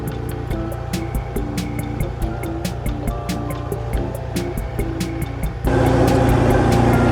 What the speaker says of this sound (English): we got the skid steer coming up here